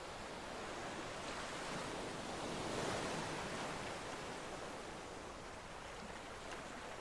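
Surf rolling in on an ocean shore in the game Cycles of Aylorea, a steady hissing wash of waves that rises slightly and then eases, faint and unbroken, with nobody speaking.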